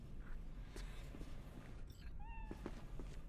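A cat meows in Cyberpunk 2077, two short rising calls close by near the end, set against a steady murmur of game ambience with a few soft taps.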